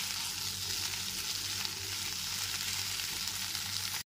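Fried soybean chunks and potatoes are stir-fried together in a pan, giving a constant, close, fairly loud sizzle that runs unbroken before cutting off abruptly.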